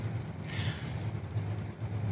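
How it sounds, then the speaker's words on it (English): Pouring rain at a state park campsite on the Oregon coast, a steady dense hiss of drops drumming on surfaces, with a low rumble beneath, continuous and moderately loud with no voices. "As soon as we pulled into our site, it started pouring rain."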